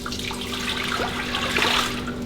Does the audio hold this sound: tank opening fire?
no